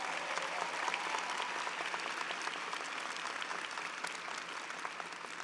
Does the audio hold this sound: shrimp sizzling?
no